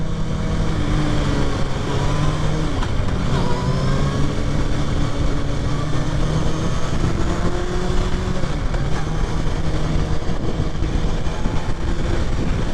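A 2023 Kawasaki Ninja ZX6R with its stock exhaust runs steadily throughout, a continuous engine drone with faint pitch shifts as the throttle eases on and off, heard amid constant wind and road rush.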